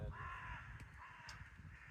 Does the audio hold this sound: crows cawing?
yes